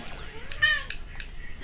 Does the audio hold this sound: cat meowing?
yes